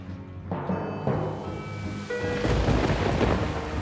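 A thunderstorm sets over Rome's Colosseum: several deep rolling thunder booms break out in turn, then heavy rain falls steadily, growing denser toward the end.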